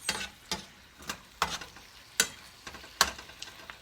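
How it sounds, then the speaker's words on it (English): Mongolian beef being stirred in a pan as it simmers in sauce, with sharp intermittent utensil taps and scrapes over a faint, steady background sizzle. "then we're just gonna stir everything together and let it simmer in the sauce"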